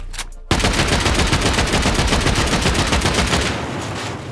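A turret in a video game raid on an underwater compound opens fire, a loud, rapid automatic burst that starts abruptly and rattles on for about three seconds before easing off, with no speech.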